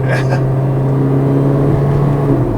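A 2015 Mercedes-Benz GLA 45 AMG with a four-cylinder engine hums steadily at low revs during a sluggish downshift into second, heard from inside the cabin, with a brief voice at the start.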